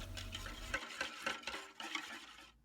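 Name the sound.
stirring black sesame dessert powder mixed with water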